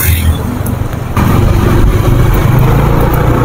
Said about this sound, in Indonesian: Hanya ada beberapa kendaraan saja yang lewat.